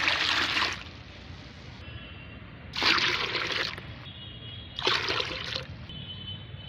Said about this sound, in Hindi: 5 लीटर सादा पानी ऐड करूँगी।